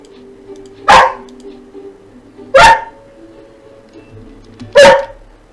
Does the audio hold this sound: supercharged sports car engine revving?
no